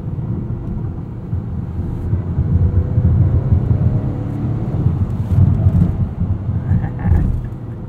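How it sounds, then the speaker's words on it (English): A 2021 Acura TLX A-Spec SH-AWD with its 2-liter turbo engine in sport mode drones loudly from inside the cabin, a steady low rumble that rises and falls as it pulls, with wind and road noise mixed in. "Listen to that 2-liter turbo."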